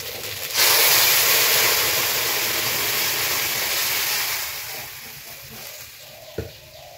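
Mashed maskalai dal with pumpkin hits a hot tempering in the pan and sets off a loud, sudden hiss. The sizzle holds steady, then slowly dies down to a softer bubbling, with no talk.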